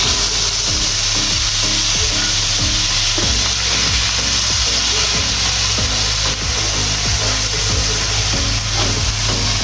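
Onion, green chili, cardamom, cinnamon and bay leaf frying in a kadai, a loud, dense, continuous sizzle with rhythmic stirring scrapes and no talk.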